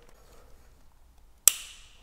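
An electrical connector clicks into place on a 2019 KTM 690 SMCR motorcycle while a Power Commander V is being fitted: one sharp, close snap after a quiet stretch, with a short ringing tail.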